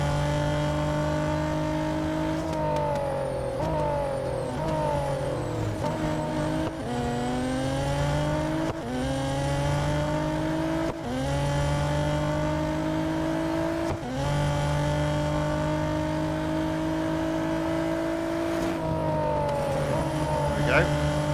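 Race cars in the Real Racing 3 mobile racing game overtaking through corners, engines droning loudly and continuously with rising and falling revs across repeated gear shifts, over a steady game soundtrack.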